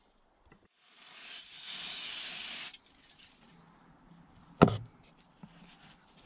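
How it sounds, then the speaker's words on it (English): Brake cleaner hisses from an aerosol can onto the brakes of a BMW E87 in one sustained spray burst of about two seconds, followed by quiet and a single sharp knock. "Bit of a clean up with the brake clean, actually using brake cleaner for its intended purpose today."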